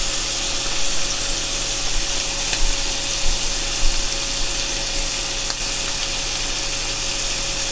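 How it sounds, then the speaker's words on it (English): Shrimp seasoned with seafood Creole blend fry over medium-high heat in a pan, giving a steady, close, even sizzle with faint occasional ticks and no talking. "we're just going to cook the shrimp a couple of minutes on each side"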